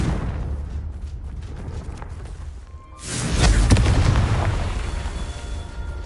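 A fire-spell explosion goes off in a magic-combat video game, a sudden loud booming burst that swells midway and rumbles out over several seconds after a quieter stretch of crackling effects.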